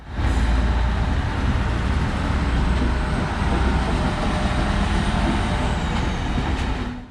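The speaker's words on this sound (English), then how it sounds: "Around 10 minutes before scheduled departure, our train arrives." An electric multiple unit train arrives at a station with a loud, steady rumble and a faint electric whine, running continuously at close range.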